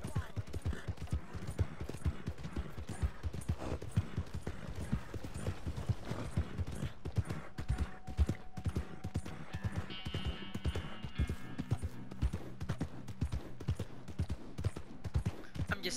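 Horse hooves clip-clop at a steady rhythmic trot in the Western video game Red Dead Redemption 2, fairly close and moderately loud, with faint game ambience and a few sharp gunshot-like cracks in the background.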